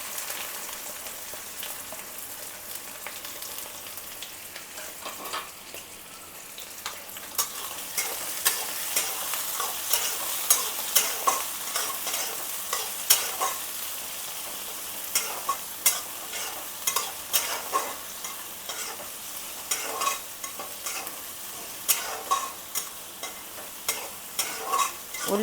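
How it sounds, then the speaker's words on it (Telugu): Onions and green chillies fry in oil in a kadai, a steady close sizzle broken by frequent sharp scrapes and clinks of a spatula stirring, growing busier after the first few seconds; no talking. "ఆనియన్ ఇలా గోల్డ్ కలర్ వచ్చేంత వరకు వేపుకోవాలి"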